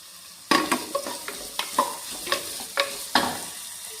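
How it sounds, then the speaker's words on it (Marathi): Onions tossed into a pan of partly fried potatoes, stirred with a series of sharp scraping strokes over a low sizzle, each stir distinct and close, with no talking. "आता कांदे टाकून घेते"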